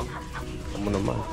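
A chicken clucks in short bursts close by, with a person speaking briefly over the sounds.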